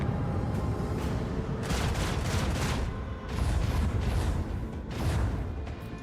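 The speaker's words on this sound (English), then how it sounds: "I will deploy the torpedoes from here." Torpedoes launched at an enemy ship during a space battle in the video game Rogue Trader, a series of dull, rumbling booming blasts over a continuous roaring background with no voices.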